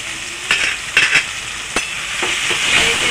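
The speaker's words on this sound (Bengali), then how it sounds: "ভালো করে মিশিয়ে নেব।" Squash with white and black mustard seed, tomato, green chili, turmeric and spices sizzles in a hot pan as it is stirred, a steady fry punctuated by several sharp scrapes of the spoon against the pan.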